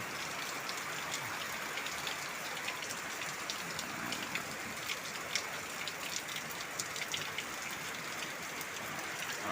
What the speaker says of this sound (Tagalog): Ay at lumakas na yung ulan